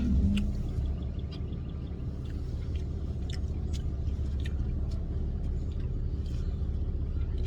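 A truck engine idles steadily from inside the cab on a clear day, a continuous low rumble with small clicks and rattles scattered over it and no talking.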